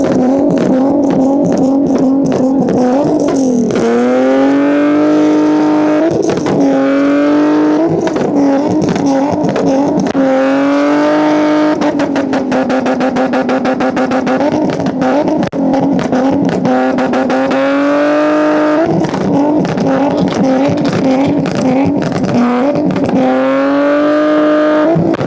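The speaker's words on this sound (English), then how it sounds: "Chad, he's finna burn the bumper off." A car does a burnout at an underground street meet in Atlanta, its engine loud and close, revving hard and holding high wails with repeated drops and climbs, while tire noise and crowd sounds mix in throughout.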